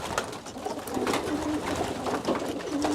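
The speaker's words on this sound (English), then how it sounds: "Look at the health on these pigeons." Pigeons coo close by, soft repeated rolling calls overlapping one another against a busy background of rustling and bird noise, with no talk.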